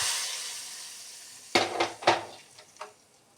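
Spices tempering in hot oil for a murugalu fruit tambuli give a steady hiss that fades, followed by a few sharp clanks of a spoon against the pan, with no one talking.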